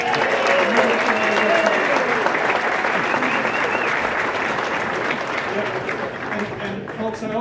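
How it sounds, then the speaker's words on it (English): A brunch crowd honouring the St. Patrick's Day Parade Grand Marshal gives a long, loud round of steady applause that tapers slightly toward the end. "So a round of applause for Mr."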